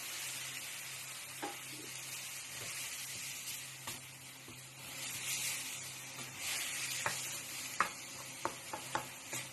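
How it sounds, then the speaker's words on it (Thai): Tomatoes for nam prik ong are stir-fried in a pan: a soft, continuous sizzle with scattered utensil scrapes and taps, the clicks growing sharper and more frequent toward the end. "ก็ผัดต่อให้มะเขือเทศสุกเลยนะ"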